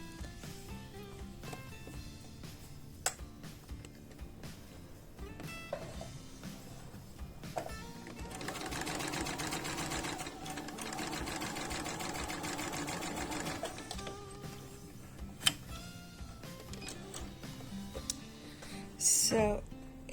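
A sewing machine stitches a quilt binding from one corner to the other, a steady mechanical run that swells through the middle stretch and then eases off, with quieter handling sounds around it.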